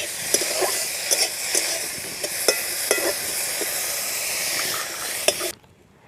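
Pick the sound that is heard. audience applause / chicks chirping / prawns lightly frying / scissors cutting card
prawns lightly frying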